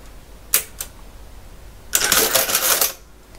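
An Addo mechanical calculator under repair runs through a cycle: two sharp clicks, then about a second of dense, rapid mechanical clatter, close and alone.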